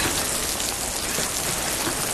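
Heavy rain falls outside in a dense, unbroken hiss of drops striking surfaces, loud and steady throughout with no voices.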